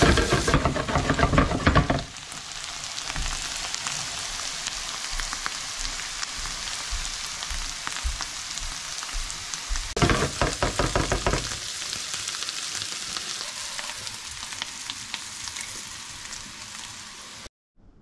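Bitter gourd (korola) fries in ghee with a rain-like crackling sizzle that is louder at the start and again around the middle, with scattered stirring taps, before it cuts off abruptly.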